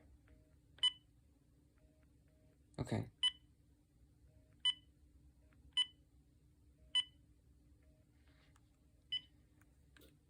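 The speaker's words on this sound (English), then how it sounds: "And that is the channel changing feature." Channel-change beeps from a Uniden EXS2010 long-range cordless phone, a string of short, sharp tones spaced a second or two apart over quiet hiss, with one brief louder burst and a single short spoken word.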